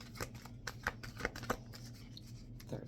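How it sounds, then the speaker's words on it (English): Tarot cards being shuffled by hand, a few soft riffling flutters and light slaps, quiet and close with no talk. "Third shuffle."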